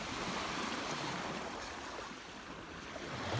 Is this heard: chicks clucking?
no